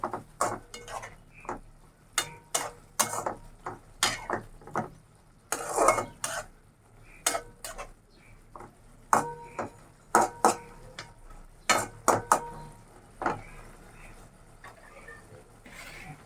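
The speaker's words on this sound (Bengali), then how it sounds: "এখন এটাতে একটু লাড়াচাড়া করে নেব" A spoon stirs okra and coconut curry in a metal pan, giving repeated sharp scraping and clinking strokes in an uneven rhythm, close up over a faint sizzle.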